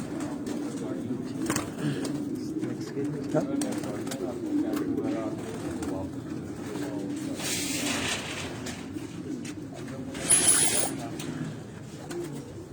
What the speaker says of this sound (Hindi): ऐसे कबूतर छत पर देख कर जो है ना दिल खुश होता है